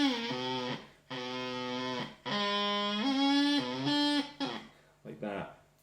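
Bagpipe chanter played by a learner whose fingers leave some holes uncovered, so the piercing reedy notes waver, jump and break in uneven bursts over several seconds with brief gaps between phrases.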